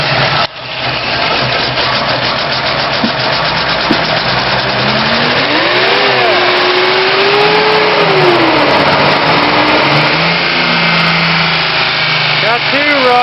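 A truck engine with fuel injection cranks and catches, then revs up and down in loud, close swells before settling into a rough idle.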